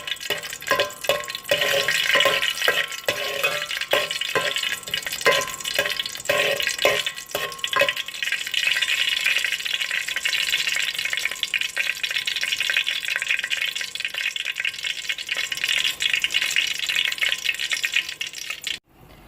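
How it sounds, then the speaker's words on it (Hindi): Cardamom pods and cloves fry in ghee in a pot, giving a loud steady sizzle with sharp clattering stirs over the first eight seconds, then an unbroken hiss that cuts off at the end. "ये हमने घी के अंदर जो है इलायची और लौंग जो है इसे हमने थोड़ा सा पका लिया है।"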